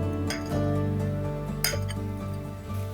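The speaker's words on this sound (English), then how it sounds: "I'm going to use a fork to mix these together first." A fork scrapes and taps against a mixing bowl while combining chunky streusel topping ingredients for fall muffins, a close, steady scratching with a few sharper clinks scattered through.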